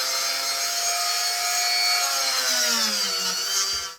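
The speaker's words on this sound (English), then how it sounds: "I'm just going to use a cutting disc on my Dremel. Well, it's not a Dremel, it's an Apollo." Apollo rotary tool fitted with a cutting disc slicing through a plastic Hornby Class 253 HST model train part, making a continuous high-pitched, close whine and grind whose pitch dips as it bites, then stops abruptly.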